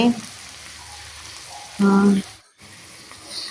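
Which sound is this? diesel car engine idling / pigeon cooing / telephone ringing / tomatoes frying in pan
tomatoes frying in pan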